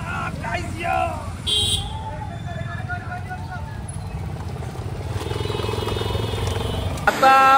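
A group of motorbikes heading off together on a festive Gokulashtami outing, engines rumbling and revving nearby with a horn toot, while people chatter and shout over the noise.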